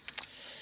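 Car keys jangle in a few brief metallic bursts at close range, then fade into a faint steady hiss, while someone prepares to check the engine management on a diesel car.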